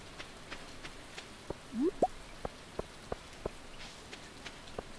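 Sparse, evenly scattered rain drops tapping a surface in Stardew Valley, soft and distant over a quiet hiss, with a brief rising tone partway through.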